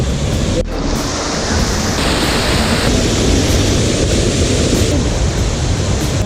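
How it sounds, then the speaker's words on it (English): A 25-metre waterfall near Kiama roars as a steady, loud broadband rush of falling water, close by with no other sounds. "25 meter waterfall"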